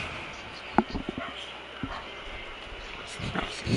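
Dogs bark and yip in the video game Resident Evil Revelations 2: a few short, sharp barks and whimpers break through steady game ambience, with voices faintly present.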